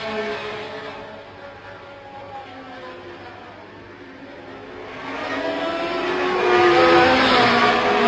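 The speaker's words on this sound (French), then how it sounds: "c'est là qu'on voit quand même que la Ferrari accélère davantage." A Ferrari Formula 1 car at the 1971 Dutch Grand Prix, its high-pitched engine whining steadily then swelling louder as it accelerates and draws nearer, with no voices over it.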